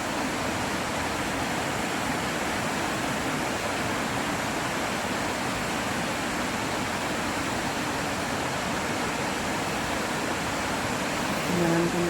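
DeCew Falls waterfall and river roar in a steady, dense rush of broadband water noise, continuous and close for the whole stretch with no pauses.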